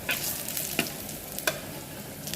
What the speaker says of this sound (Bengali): এখন আমি রসুন আর পেঁয়াজ দিয়ে তেল দিলাম ভাজবো এটা ভালো করে